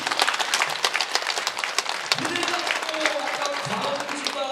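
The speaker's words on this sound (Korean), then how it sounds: "우리 주님께 영광의 박수 돌리겠습니다." A church congregation at a Korean prayer meeting breaks into crisp, close applause of praise, with a speaker's voice carrying over the clapping partway through.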